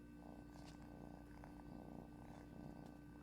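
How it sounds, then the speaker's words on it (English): A cat's purr in the cozy video game Cantaloupe Chronicle, a soft continuous rumbling loop with steady rhythmic pulses, quiet and alone with no talk. "Oh, listen to him purring."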